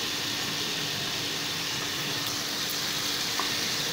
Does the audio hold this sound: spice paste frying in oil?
yes